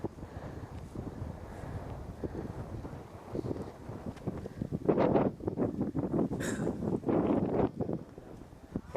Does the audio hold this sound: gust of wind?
yes